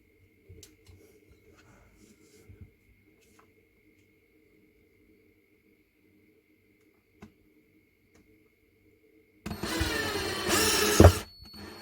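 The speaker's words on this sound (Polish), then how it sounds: "próbujemy wkręcić wkręt" Dedra 14.4V cordless drill driving a screw: near silence with a few faint clicks, then a loud motor whir of about two seconds near the end.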